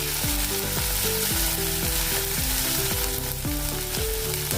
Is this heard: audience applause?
no